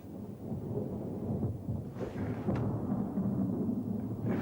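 Storm thunder rumbles low and continuous at a moderate distance, rolling on for several seconds with a few sharper cracks partway through, alone with no voices.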